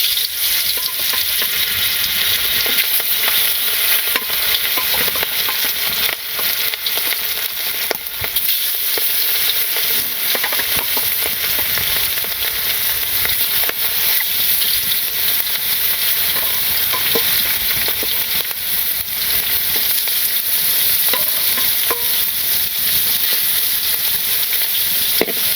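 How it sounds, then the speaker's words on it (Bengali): Fish frying in hot oil, a loud continuous close-up sizzle with dense crackling and spitting that stays steady throughout, no voices. "মাছ ভাজি"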